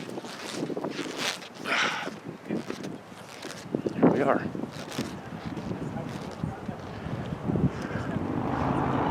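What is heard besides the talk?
wind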